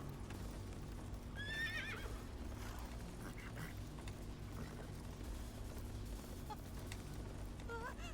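A video game horse whinnies with a rising, wavering neigh, with rhythmic hoof clip-clops and ambient game sounds running underneath, fairly quiet and steady throughout.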